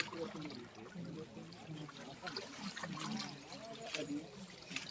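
Water flowing through a channel in a natural-farming field, a soft continuous trickle and gurgle heard close by, with people talking over it throughout.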